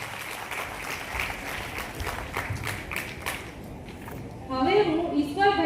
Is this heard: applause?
yes